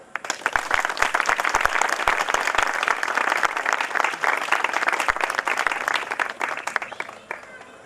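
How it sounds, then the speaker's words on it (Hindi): Applause from a congregation inside Holy Cross Church in Chugawan, many hands clapping in a lively, crackling stream for several seconds before fading, with voices audible beneath it. "ताली बजाइए।"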